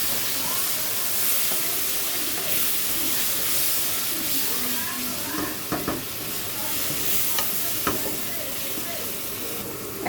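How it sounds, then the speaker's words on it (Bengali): Spices hit hot oil in a pan and are stirred, giving a steady, fairly close sizzle with occasional scraping clicks of the spoon, and a faint voice in the background. "এ পর্যায়ে আমি মশলাগুলো সব দিয়ে দিব এবং সুন্দরভাবে নাড়াচাড়া করে নেব"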